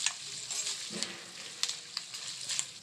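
Turmeric and asafoetida crackle in hot oil, a soft steady sizzle close by with small irregular pops scattered through it and no talking.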